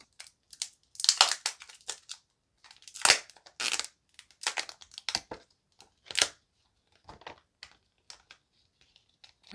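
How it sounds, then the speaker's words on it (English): Protective plastic film peeled off a new Samsung Galaxy Z Flip 3, a series of close, crisp crackling and ripping bursts with short pauses between them, heard alone without speech. "let's peel this off and get into the phone"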